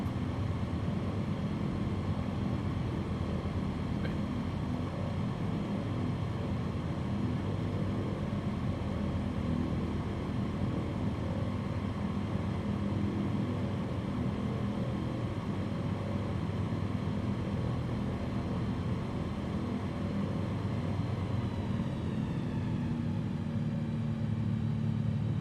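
Steady, unbroken engine drone of a small aircraft in flight in Microsoft Flight Simulator, loud and even throughout with a slight pitch drop near the end.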